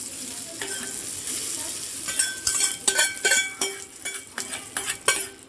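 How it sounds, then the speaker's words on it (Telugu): Hot tempering hits tomato coriander pickle with a steady, crackling sizzle, joined by bright, repeated clinks of a spoon against the pan. No one speaks. "దీంట్లో నుండి పోపు వేసుకుందామండి."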